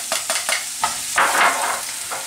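Onions hit hot, spicy chili oil in a pan and sizzle loudly, after a few quick clinks of a utensil, with the frying hiss swelling midway and carrying on alone.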